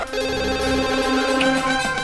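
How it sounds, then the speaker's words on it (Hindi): A telephone rings with a steady, repeating electronic ringtone pattern that sounds clear and close, with no voices over it. "तो पायल को फोन लगा"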